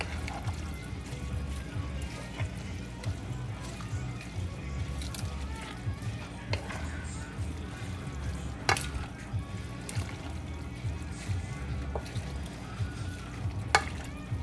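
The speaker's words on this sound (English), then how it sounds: "So I'm going to mix my spinach. Give it a nice mix." Spinach is stir-fried with yellow noodles in a wok for mee goreng basah: a steady low sizzle and frying hiss runs throughout, broken by occasional scrapes and taps of a utensil against the pan.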